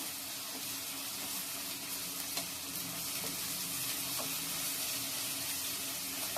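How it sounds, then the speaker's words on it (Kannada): Ginger garlic paste frying in oil in a pan for mutton chops, a continuous close sizzle with faint stirring scrapes and no talking. "ಶುಂಠಿ ಬೆಳ್ಳುಳ್ಳಿ ಪೇಸ್ಟ್ ಅದು ಕೂಡ ಹಸಿ ವಾಸನೆ ಹೋಗೋವರೆಗೂ ಚೆನ್ನಾಗಿ ಫ್ರೈ ಮಾಡೋಣ"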